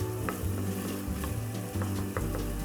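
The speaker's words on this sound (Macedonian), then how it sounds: "Додека кромидот ни се издинста" Chopped onion for a porcini and pork rib risotto sizzles and sweats in a pan, a steady close frying hiss with a few light stirring scrapes throughout.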